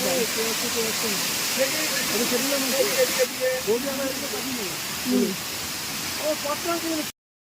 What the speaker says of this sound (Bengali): ওপরে মনে হচ্ছে ট্যাঙ্কি ভর্তি হয়ে গেছে, পাম্পের সুইচটা না বন্ধ করলে এখনই সব জল বেরিয়ে যাবে